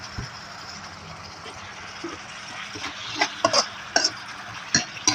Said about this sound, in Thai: ผัดปรุงรสให้มันเข้ากัน